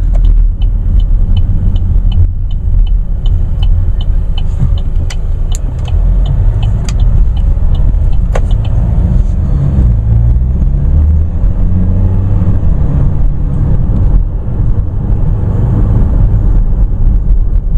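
A 2014 Chevrolet Cruze turbo diesel engine drones low and loud, swelling as it accelerates hard, heard from inside with faint ticking above the rumble.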